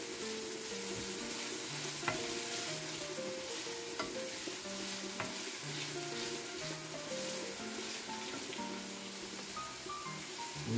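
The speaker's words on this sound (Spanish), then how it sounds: "voy a dejar que se cosa hasta que la cebolla se pone transparente" Onion and sweet red pepper fry steadily in a pan with a continuous close sizzle and occasional stirring clicks, while soft music plays underneath throughout.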